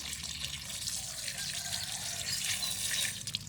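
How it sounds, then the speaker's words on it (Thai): Water sprayed from a hose to rinse soil off lotus tubers, a steady hissing splash with trickling and dripping throughout, fairly weak pressure, close and continuous with no voices. "ก็ฉีดเอาน้าเอาดินออกให้หมดนะครับค่อยๆฉีดเนาะ"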